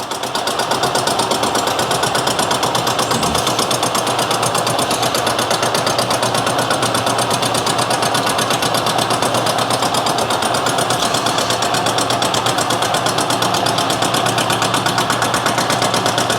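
A milling machine's cutter facing a cylinder head, the trailing cutter catching the untrimmed back edge: a loud, continuous droning machine roar with a fast rattling chatter, steady throughout and close.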